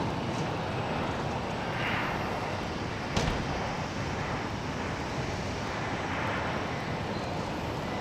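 An airplane departing San Jose International Airport roars steadily in the distance, a broad continuous jet rumble with some wind noise on the microphone.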